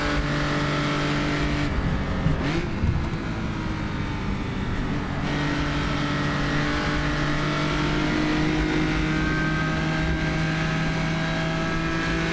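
A historic Jaguar D-type race car's engine roars from onboard at Spa-Francorchamps during a historic road racing round: a loud, sustained drone with steady held pitch and a brief shift around the second second, no voices.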